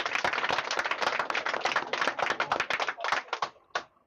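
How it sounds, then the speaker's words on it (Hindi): Crisp, rapid clapping from a small gathering honoring a 10th-grade exam topper, close and lively with uneven rhythm, thinning out near the end with a few final claps. "तालियों से स्वागत करेंगे।"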